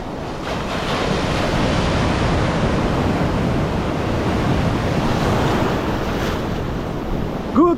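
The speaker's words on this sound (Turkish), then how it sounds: "Su çekiliyor ve bir anda dalga kocaman bir şekilde geliyor." Ocean surf on a Costa Rica beach, a continuous broadband roar of breaking waves with wind noise, loud and steady throughout, with no voices.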